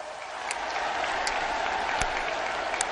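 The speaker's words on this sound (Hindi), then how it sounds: "जोरों से ताली बजाइए साथियों," A large crowd at a public event in Madhya Pradesh applauds steadily and loudly, a dense continuous wash of clapping with a few sharper individual claps standing out, no voices over it.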